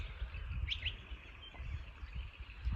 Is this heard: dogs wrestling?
no